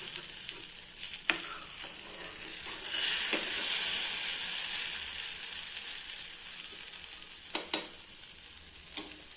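Chutney omelette frying in a pan, a soft, steady sizzle with a louder hissing swell partway through and a few light clicks of handling, heard alone.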